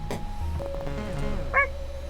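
A short, sharp dog yip rises briefly over a steady droning tone and low hum, with another faint bark-like burst near the start.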